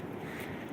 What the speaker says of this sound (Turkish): Şuradan bir dere geçiyor ve bu derenin olduğu yerde şu an müthiş bir uğultu